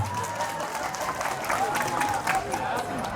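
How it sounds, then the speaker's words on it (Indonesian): An audience at a religious lecture applauds for the women, a burst of crowd clapping heard alongside voices, steady and fairly loud throughout. "tepuk tangan untuk ibu-ibu nih"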